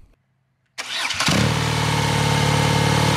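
BMW R NineT air/oil-cooled boxer engine with standard exhaust cans cranking briefly after a moment of quiet, then catching and settling into a loud, steady close idle.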